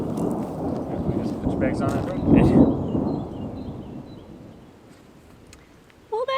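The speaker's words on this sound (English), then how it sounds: "Well, that was some serious thunder." Thunder from an approaching storm rolls across open country during a bikepacking trip in Spain, a long loud rumble that peaks and slowly fades, with a brief spoken remark at the end.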